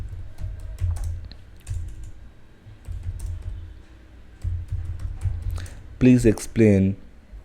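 Bursts of quick tapping on a computer keyboard as a prompt is typed, steady clicking under a low background hum, followed by a short stretch of speech at the end.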